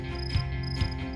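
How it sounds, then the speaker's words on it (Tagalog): Edible crickets raised on a farm in Victoria, Laguna, give a steady, close, high-pitched buzzing drone with two brief louder pulses. "Kung nakakatulig sa marami ang huni ng kuliglig"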